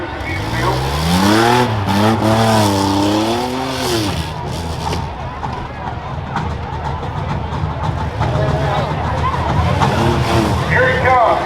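A rough truck races through a fair's infield course with a loud engine revving and climbing, then dropping, and a fainter engine sound beneath, under continuous crowd babble and an announcer's voice.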